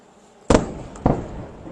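Two loud, sharp missile explosions in Tel Aviv, about half a second apart, each booming then trailing off into a rumbling echo over a steady background hum.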